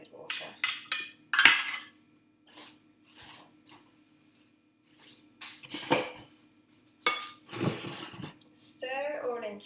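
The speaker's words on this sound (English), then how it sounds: "Stir it all in together." Dough for garlic dough balls, made with tepid water and oil, is stirred in a bowl, giving irregular clinks and scrapes in short bursts over a low, steady background hum.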